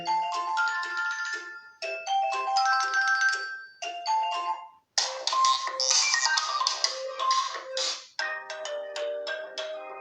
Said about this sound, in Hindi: यहाँ पर आ जाते हैं रिंग टोन्स में